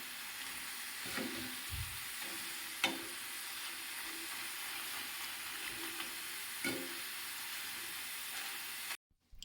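Bitter gourd frying in a pan gives a quiet, steady hiss of hot oil with a few faint stir scrapes, then the sound cuts off abruptly near the end.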